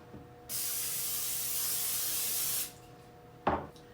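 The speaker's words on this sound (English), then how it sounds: "Then we need to grease our pan with some cooking spray." A continuous hiss of cooking spray greasing a baking pan lasts about two seconds, close and fairly loud, followed by a brief clunk.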